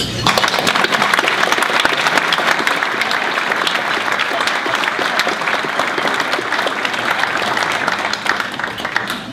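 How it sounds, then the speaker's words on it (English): Sustained applause from a sizable audience at an educator of the year award ceremony, dense and steady clapping that continues throughout before easing slightly at the end. "Applause."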